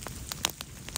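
A campfire burning outdoors in falling snow crackles and pops in sharp irregular snaps over a soft steady hiss of precipitation.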